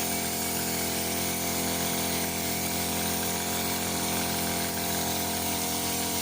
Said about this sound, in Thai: เราต้องใช้เครื่องพ่นแบบนี้เลยนะคะ พราะว่าเขาสูงมากๆเลยนะคะ